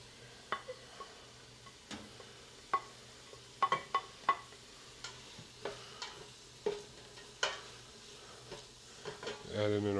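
Garlic added to a hot pan for mojo chicken gives a faint, low sizzle under a run of sharp stirring clicks and utensil knocks against the pan, ending in a brief louder scrape; no one talks.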